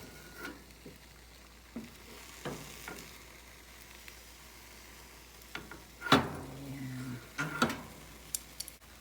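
Egg frying in a little oil in a pan for tamagoyaki, with a steady faint sizzle broken by scattered clinks and scraping of a utensil against the pan.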